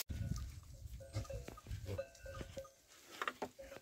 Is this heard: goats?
yes